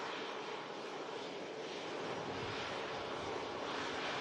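An arriving Icelandair Boeing 737 MAX at Manchester Airport rumbles faintly and steadily from a distance on a stormy day as it rolls toward the runway turnoff, with no voices.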